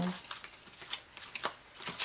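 Tarot cards are shuffled by hand in soft, close riffles and slides, quiet and repeated across the moment, with a voice faintly present.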